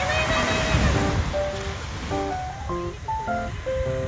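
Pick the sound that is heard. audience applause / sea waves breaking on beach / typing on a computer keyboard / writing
sea waves breaking on beach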